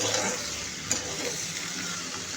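Okra (bhendi) frying in a pan as it is stirred, with a soft, steady sizzle and faint scraping, plus one small clink near the start.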